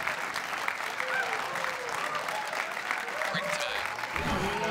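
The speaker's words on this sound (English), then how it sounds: "I'm in the booth here applauding" Spectators at a women's professional pool tournament semifinal at Soaring Eagle applaud a shot in a steady, moderate round of clapping, with voices murmuring and talking underneath.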